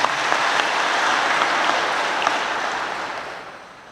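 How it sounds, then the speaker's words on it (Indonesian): Audience applause for a regional head's address at an academic discussion forum: a full, even wash of many hands clapping in a hall, steady and moderately loud, slowly tapering off toward the end. "Tepuk tangan dulu buat beliau."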